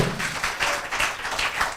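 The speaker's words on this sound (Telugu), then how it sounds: "పాటండి గట్టిగా చప్పట్లో" A church congregation claps loudly and steadily, a dense continuous wash of many hands filling the room with no voices heard.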